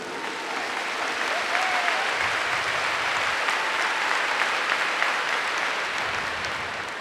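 A large congregation at a Catholic charismatic gathering in Brazil claps together in a continuous, full roar of applause that holds steady for several seconds, with no speech over it.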